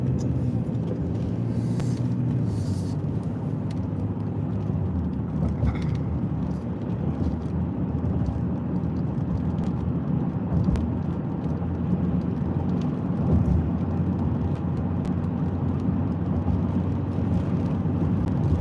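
A storm-chasing car pulls away and drives along a road during Texas tornado-warned storms, a steady broadband engine and road rumble continuing throughout, with no talk.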